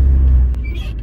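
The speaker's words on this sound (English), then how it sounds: "I'm going to take it for a little spin actually." A VW Golf GTi engine rumbles low and steady up close as the car pulls away, with the drone easing slightly toward the end of the short burst.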